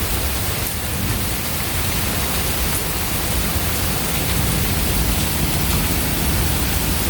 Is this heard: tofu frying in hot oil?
no